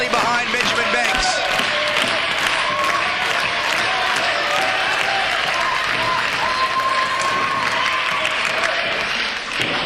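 A wrestling crowd rallies behind Benjamin Banks during a tag team match, rhythmic unison clapping pounding steadily throughout under a commentator's voice.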